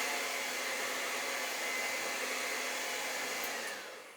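A hair dryer blows steadily and close on acrylic paint during palette knife painting, a continuous loud whoosh that holds level throughout, then eases off near the end.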